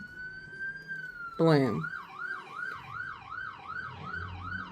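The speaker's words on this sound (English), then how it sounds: "Noisy, noisy fire department." A fire department vehicle's siren passes on the road, rising sharply and then cycling in a regular wailing warble, fairly loud over street ambience, with a voice briefly audible.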